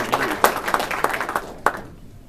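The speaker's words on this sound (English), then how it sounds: "Clap loud so you can hear you." Scattered hand clapping from a small audience at an astronomy club meeting, a few uneven claps close by that fade out after about two seconds.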